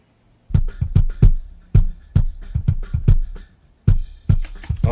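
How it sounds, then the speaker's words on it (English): Soloed kick drum track processed through mixing plugins, delivering punchy, deep thumps in an irregular pattern with short gaps between groups of hits, close and loud with no talking. "let's listen to the kick. It's on solo and it sounds like this with the plugins"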